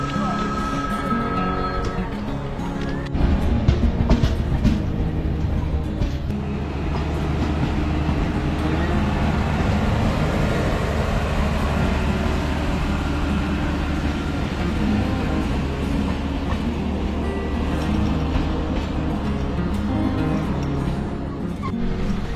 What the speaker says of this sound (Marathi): ट्रेन सुटली आहे